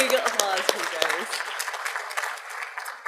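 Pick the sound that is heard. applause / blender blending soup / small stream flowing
applause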